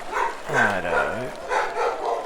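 A house dog barks out in the background, one drawn-out, rising-then-falling bark lasting under a second, partly masked by a nearby voice talking over it.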